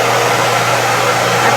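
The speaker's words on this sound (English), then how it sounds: "I'm usually diffusing with this dryer" Xtava Black Orchid hair dryer with a diffuser attachment running, a loud steady whooshing motor hum with a constant low tone, close and uninterrupted.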